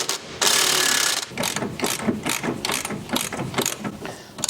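A spanner ratchets off Bilstein suspension bolts on a Nova, a loud close burst of rapid ratchet clicks followed by a run of quick, rhythmic clicking strokes.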